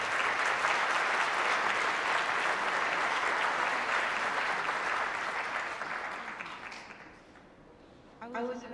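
Sustained applause from a large audience at a peace prize award ceremony, steady and full for about seven seconds before fading, with a brief voice near the end.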